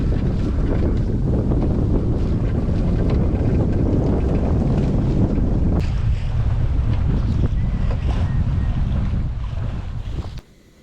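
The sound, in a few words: sailboat cruising along the coast, water and wind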